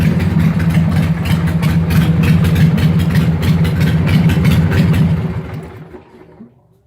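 A 2003 Harley Sportster Hugger 883 engine idles loud and close with a rapid, lumpy low rumble that holds steady, then fades out over the last two seconds.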